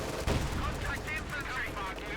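An artillery barrage and gunfire in the Company of Heroes 2 video game: a burst of booming impacts with crackling shots that continue at a moderate level, with a commentator talking over them.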